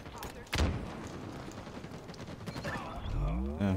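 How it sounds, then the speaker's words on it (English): Bursts of video game gunfire crackle alongside sharp impacts and mechanical clatter, with a strong shot near the start and a rising electronic whine at the end. "Hella gunfire."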